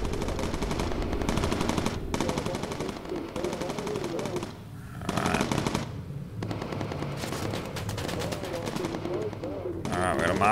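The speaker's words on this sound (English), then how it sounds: "Get him, Scott. Get him. Good shooting." Rapid machine-gun bursts rattle in a B-17 bomber crew video game, repeated volleys broken by short pauses, with voices talking over the shooting.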